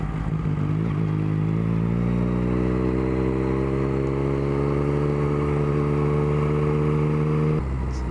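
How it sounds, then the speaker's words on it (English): A 2021 Yamaha MT-09 motorcycle engine revs up steadily for several seconds with a rising, harmonic-rich whine, then cuts off abruptly, loud and close with no talking. "This bike, for the most part I would say, really likes to rev higher."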